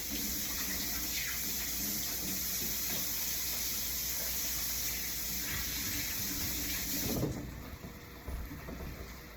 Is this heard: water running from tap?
yes